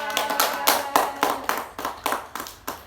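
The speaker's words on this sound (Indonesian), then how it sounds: "Berapa kali ibu tepuk?" Hand claps in a classroom counting exercise, about ten sharp, evenly spaced claps in a steady rhythm, close and fairly loud, with no talking over them.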